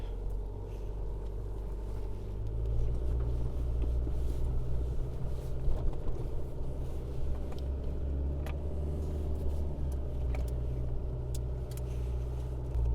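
A car drives slowly along an inland sand track to a campsite at Flinders Beach on North Stradbroke Island, giving a continuous low engine rumble with light bumps and rattles and no speech.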